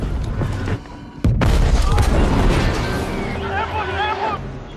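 A bomb detonating in a Godzilla monster film, a sudden heavy boom after a brief lull that swells into a sustained rumbling roar, with voices and cries layered over the blast.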